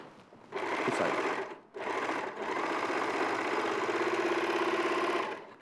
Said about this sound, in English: I've stepped back so you can see the overlocker.